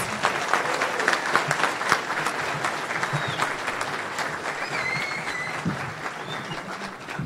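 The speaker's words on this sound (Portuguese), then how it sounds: "com uma calorosa salva de palmas" Warm, sustained applause from a large audience at a political lecture event in São Paulo, dense and close, with a few faint whistles or shouts rising over the clapping.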